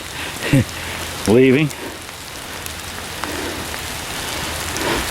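Light, steady rain patters across a cemetery on a dank, cool day, a soft broadband hiss throughout, with brief voices cutting in near the start.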